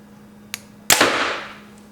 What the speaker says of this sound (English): We're gonna shoot this. The 470? 470 grain arrow.